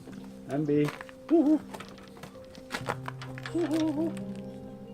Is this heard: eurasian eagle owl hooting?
yes